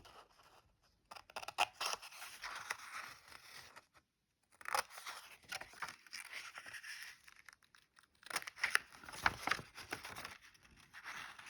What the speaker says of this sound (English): Got some paper scissors.